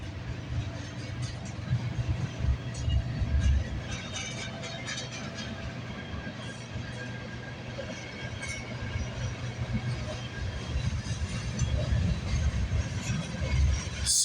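Train CNM302, originating from Symington Yard in Winnipeg, Manitoba, rolls past on railway tracks with a steady, loud, continuous rumble and rattle of cars, a few faint wheel squeals rising over the noise.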